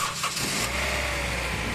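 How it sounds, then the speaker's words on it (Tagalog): A first-generation Honda CR-V engine with an overheating problem cranks and catches, then settles into a steady idle close by. "Pa-start ko itong makina ni customer."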